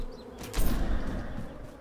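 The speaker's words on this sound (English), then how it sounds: "Oh, bees!" Bees swarming in the Holomento video game give off a steady insect buzz throughout, swelling louder partway in and holding there, with nobody talking over it.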